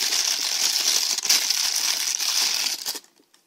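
Plastic wrapping crinkles and rustles around a brand-new Casio G-Shock GA111DR-7A watch, a close, busy crackling that continues for about three seconds and then stops abruptly.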